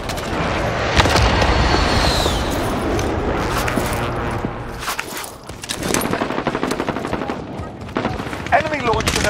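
Call of Duty Warzone Season 6 match: loud, close bursts of automatic gunfire and single shots crack in rapid clusters, with booms and battle noise behind, while voices call out amid the firing.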